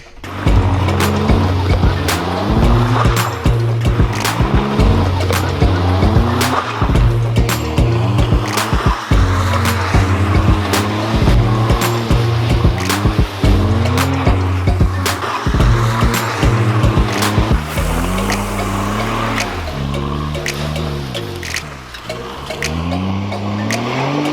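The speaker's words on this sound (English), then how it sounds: "I'm gonna try and drift around this circle, see what we can do with the little smart car." Little Smart car pushed around a circle in an attempt to drift, its small engine revving in repeated bursts and shifting pitch while tires squeal and scrub close to the microphone.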